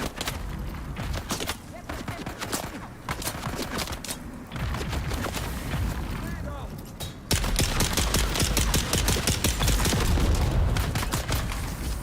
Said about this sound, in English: The grenade got me.